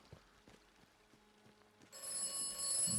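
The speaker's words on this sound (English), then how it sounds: "We do have another phone call for us from the mysterious voice." A phone rings in the video game Atomfall, a bright repeating trill that starts partway in and grows louder over faint background game ambience.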